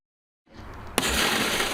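Firefighters break into a vehicle during an extrication training exercise: after silence, a rough mechanical noise builds, then one sharp crack gives way to a loud, sustained crunching roar.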